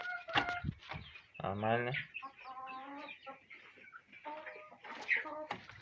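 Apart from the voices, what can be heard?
laying hens clucking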